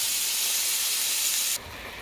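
Mixed vegetables and onion hitting hot oil in a pan, a loud bright sizzle that drops to a softer steady hiss partway through.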